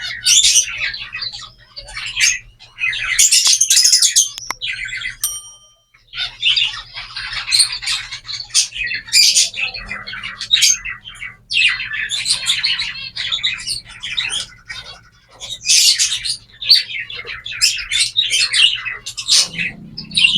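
An egg-bound pet bird squawks and chirps repeatedly in loud, harsh, distressed bursts close by, with a low steady hum underneath and no talking.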